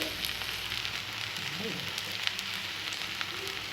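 Adai batter fries in groundnut oil with a steady, close crackling sizzle that runs the whole time, and a faint voice drifts underneath.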